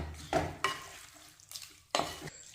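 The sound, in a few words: stirring ginger mango pickle in pan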